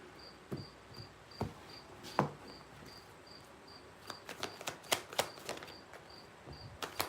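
Faint, regular cricket chirps at night pulse steadily in the background while scattered clicks and taps sound nearby, quiet overall.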